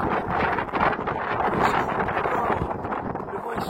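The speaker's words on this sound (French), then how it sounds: "Le vent il souffle, ça fait froid." Wind blows steadily and close against the microphone on a walking trail between pastures and woods on the Camino de Santiago, a constant rough rush with gusty swells throughout.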